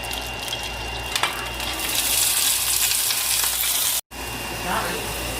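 Carrots sizzling in a hot pan as a child cooks, a steady loud frying hiss with a few clinks and stirring sounds close by, uninterrupted by speech.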